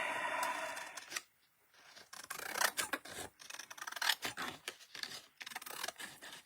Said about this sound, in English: Okay, cut the back side.